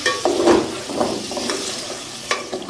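Soy sauce and vinegar get stirred and mixed in a hot frying pan for a chicken vegetable rice dish, with a soft sizzle under scraping spoon strokes and a few light clinks, close by.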